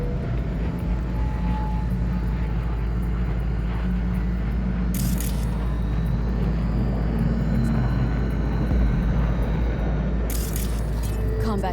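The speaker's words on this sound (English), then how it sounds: "Combat drones. Defense systems active." Combat drones in Cyberpunk 2077 fly overhead with a steady, loud engine-like drone and whirring hum that holds throughout, dense and continuous with no pauses.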